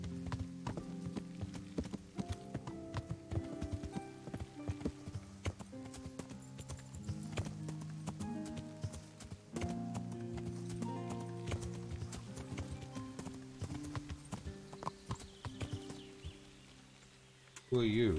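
Horse hooves clip-clop steadily in Kingdom Come: Deliverance over a background of music, with a voice speaking over them.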